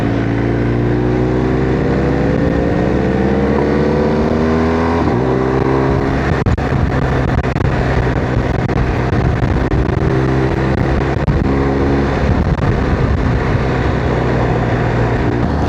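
A motorcycle engine drones loudly and steadily close up while riding on a road trip back to General Santos, its pitch shifting as the rider changes speed, with wind noise and no talk.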